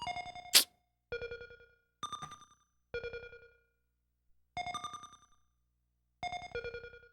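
Phone ringtone chiming in short melodic bursts, about six separate phrases spaced by brief silences, clear and alone with no voices.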